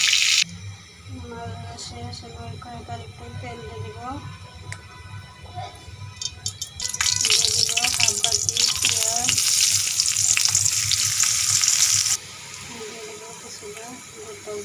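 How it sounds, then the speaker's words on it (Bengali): Pieces of rohu fish lightly frying in a pan, a loud steady sizzle swelling partway through, with a voice talking over it. "হালকা করে ভেজে নেব"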